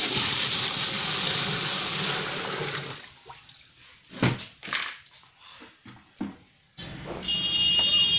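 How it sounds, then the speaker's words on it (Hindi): Water poured into the tub of a semi-automatic washing machine, a loud steady gushing rush that stops, followed by scattered sloshing and dripping, then a high electronic beeping tone as the flow resumes. "फिर से पानी डाल के देख रहे हैं।"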